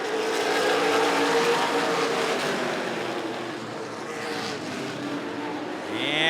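Late model race cars roar around Rockford Speedway after a green-flag restart in a feature race, a dense, loud pack of engines sweeping past, with a commentator's voice faintly under the noise.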